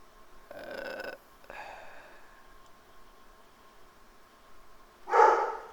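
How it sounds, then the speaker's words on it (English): Dogs bark at a distance in a few separate bursts: two short woofs early on, then a louder, closer bark near the end, with a quiet background between them. "Alright, dogs barking."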